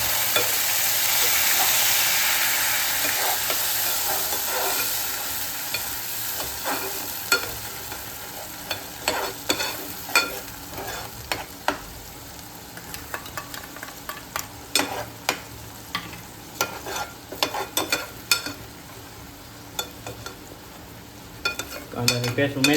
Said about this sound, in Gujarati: હવે આમાં આપણે કાંદાની પેસ્ટ ઉમેરીશું